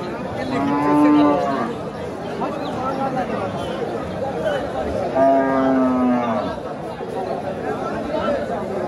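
Cattle moo loudly twice, long drawn-out lowing calls a few seconds apart, over a steady murmur of crowd noise at a livestock market held for Eid.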